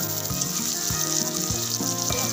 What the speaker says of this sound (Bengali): পেঁয়াজগুলো এখন সুন্দর করে লাল লাল করে ভেজে নেব